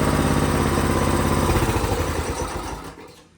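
A mini bike's small engine idles steadily and loud, a close rhythmic putter that drops in pitch and fades toward the end as it winds down.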